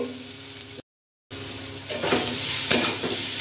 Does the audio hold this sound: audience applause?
no